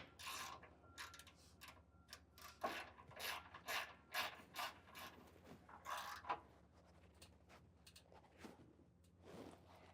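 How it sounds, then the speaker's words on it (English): A 15 mm socket wrench ratchets in quick bursts of clicking while tightening a bolt during a SumoSprings rear helper spring install, the strokes near and distinct with short pauses between them. "we are going to need to go up to a 15 socket and wrench to get this tightened down the rest of the way."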